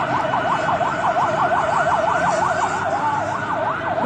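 A security force vehicle siren wails, cycling steadily up and down, loud and continuous, with traffic rumble underneath, during a terrorist attack at the Karachi stock exchange.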